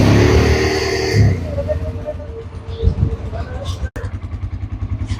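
A dune bike engine idles and revs in sandy desert, a loud, close, rough rumble with clattering, briefly joined by a voice near the start.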